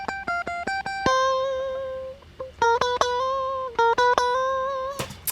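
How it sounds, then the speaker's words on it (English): A clean lead guitar line played with no effects, bright plucked notes in quick staccato bursts alternating with longer sustained tones, clear and alone with no talking. "I recorded just a little lead that sounded like this without any effects"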